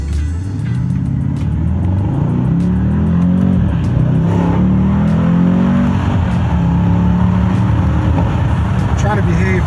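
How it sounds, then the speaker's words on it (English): Loud, close exhaust note from a Mercedes S63 AMG still in its break-in period, revved gently below 4,000 rpm with rising and falling engine tones, while a person talks over it. "So now all I really want to do is hear a little bit of that exhaust."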